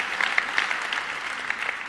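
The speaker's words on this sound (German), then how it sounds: "Können wir gar noch mal klatschen?" Church congregation clapping during an annual vision service, a dense, sustained patter of many hands applauding together, steady and fairly close, with scattered louder claps throughout.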